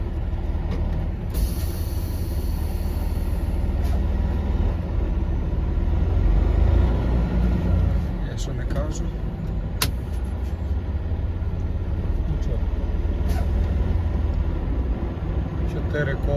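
An overloaded truck sets off on an icy road, its low engine rumble droning steadily throughout, with a few brief higher clanks and a voice now and then.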